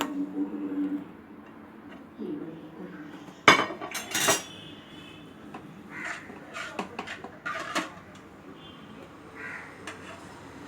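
An egg dosa is lifted onto a plate, with sharp metal clinks and clatter of a spatula and dishes in bursts against quiet kitchen background, and a crow cawing faintly outside.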